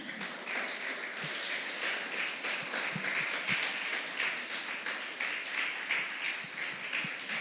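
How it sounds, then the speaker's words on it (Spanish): A church congregation clapping as an offering to the Lord, a steady, moderately loud crowd applause with dense overlapping claps and a few sharper low thumps scattered through it. "¿Cuántos pueden dar una ofrenda de palmas al Señor?"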